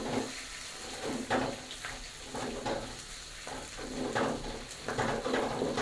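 Bay leaves and garlic frying in used oil in a pan, a soft continuous sizzle with rhythmic bursts of stirring and spattering roughly every half second, close and moderately quiet.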